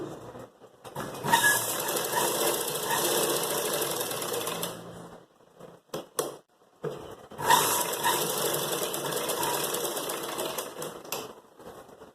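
A sewing machine stitching a raglan jabla runs in two long rapid bursts of loud, close mechanical whirring and needle clatter, separated by a brief pause with a few short starts.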